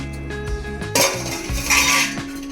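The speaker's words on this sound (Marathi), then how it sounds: "हे पण छानपैकी परतून घेऊया।" Spices including Kashmiri chilli powder, Malvani masala and salt being sautéed in a pan for shev bhaji, with close clinks of a spoon against the metal pan and a soft sizzle under background music.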